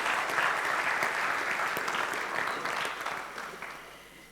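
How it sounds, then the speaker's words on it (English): Steady applause from a sizeable crowd at a drawing award event, dense clapping that holds for a few seconds and then gradually thins and fades. "So an applause for this."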